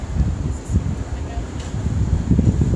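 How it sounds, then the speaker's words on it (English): Gusty wind buffets a microphone outdoors in Minnesota, a low rumbling roar that rises and falls throughout and is heaviest toward the end. "It's getting a little blustery. It's always wind in Minnesota."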